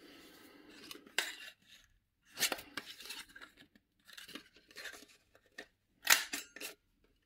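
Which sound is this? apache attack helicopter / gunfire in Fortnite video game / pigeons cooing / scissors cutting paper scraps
scissors cutting paper scraps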